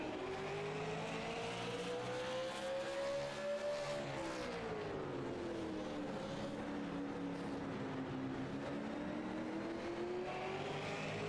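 Super late model race cars howl around Martinsville Speedway, one loud engine note rising, dipping and climbing again steadily as other cars drone behind it, with a faint announcer barely audible underneath.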